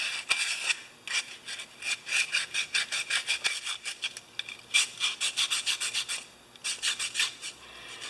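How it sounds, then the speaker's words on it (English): Repeated back-and-forth strokes of 200 grit sandpaper roughing up the edges around the gas outlet of a Homelite generator, in rhythmic bursts with brief pauses, close and fairly loud. "I'm going to just rough this up with sandpaper. This is, I think, 200 grit or something"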